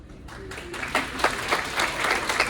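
An audience at an award presentation session claps for the award winners, a modest, fairly distant round of applause swelling slightly over a couple of seconds.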